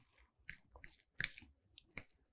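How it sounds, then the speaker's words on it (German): Someone chewing a mouthful of homemade hummus seasoned with salt and pepper, heard as close, soft, irregular crunchy bites and moist mashing, with no talk. "Deswegen gut kauen"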